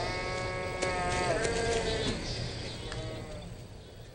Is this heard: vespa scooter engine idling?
no